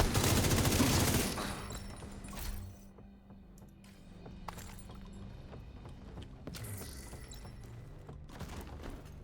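Shotgun fire in a video game during an evening livestream: a loud burst of blasts at the start, then fainter scattered shots and clanks under a steady game background.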